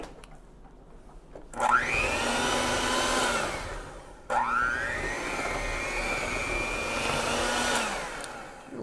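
An electric mixer beats butter and confectioner's sugar together. It whirs in two loud continuous runs, each rising in pitch as it speeds up, with a short pause between them and no talking.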